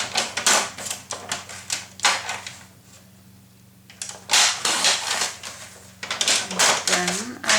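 Paper for a Graphic 45 Couture mini album is trimmed again after a first cut came out too small, giving repeated close, crisp cutting and slicing strokes in bursts with a short pause in the middle.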